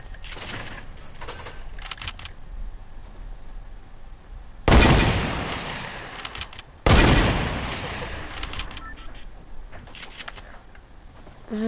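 Video game gunfire with a pump shotgun: two loud, booming blasts stand out several seconds apart, each trailing off, over lighter crackling shots and background game noise.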